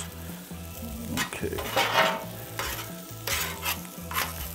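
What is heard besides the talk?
frozen tater tots frying on a Camp Chef Explorer stove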